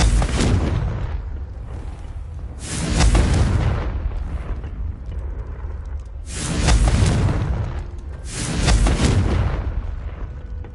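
Explosions from the Confringo spell cast in a Harry Potter video game: loud, deep booming blasts that swell and roll away, several heavy surges in a row with no talk.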